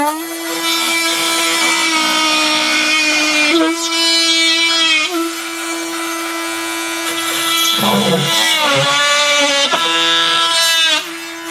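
A Bosch GOP 18V-34 cordless multitool drives its blade into very hard exotic wood, giving a loud, close, high-pitched buzzing whine that holds steady, dips briefly and shifts pitch as the blade bites.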